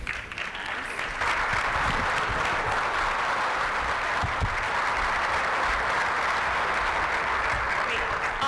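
Audience at a county legislative breakfast breaking into sustained applause, a dense, even roar of clapping that swells early and holds loud throughout, with faint voices underneath.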